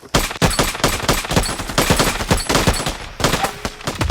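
Diversionary gunfire in a Vietnam War battle scene, dense and loud, with rapid overlapping automatic bursts and sharp shots cracking continuously throughout.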